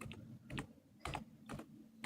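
Keys clatter on a computer keyboard in a few quick bursts of clicks, close and fairly clear, set against a quiet low hum with no one speaking.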